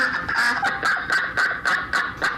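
Ducks quack over and over in a steady, loud, evenly spaced run of honking calls used as a comedy segment sound effect, with no talk.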